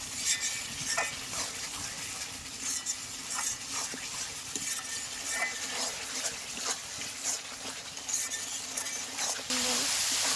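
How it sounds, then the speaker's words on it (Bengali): Spice paste sautéing in oil in a pan for a country chicken curry with raw plums, a continuous sizzle broken by scraping stirring strokes and light pan clatter. "মশলাটা আমার প্রায় কষা হয়ে আসছে, মশলা থেকে কিন্তু তেল ছেড়ে দিচ্ছে।"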